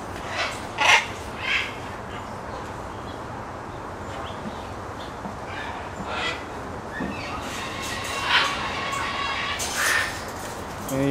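Exotic parrots calling outdoors, several loud harsh squawks and caws scattered over a constant rumbling background, some near, some farther off.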